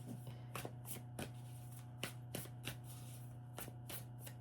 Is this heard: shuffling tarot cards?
yes